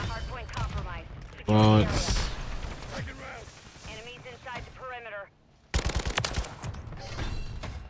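Rapid automatic gunfire from a Kastov 762 AK-47 in Modern Warfare 3 Hardpoint multiplayer comes in close, loud bursts with short gaps. Someone talks between and over the shooting.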